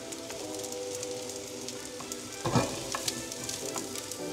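Mushroom sauce sizzles steadily in a pan, with scraping stirring strokes, one louder near the middle, over a constant frying crackle.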